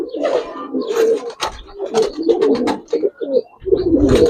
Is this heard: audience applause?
no